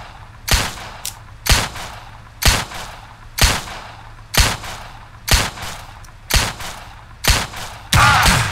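Gunshots in the video game Empire of Sin, heavy sharp blasts landing about once a second in a steady series of nine or so, each with a short thudding tail, ending in a louder denser burst.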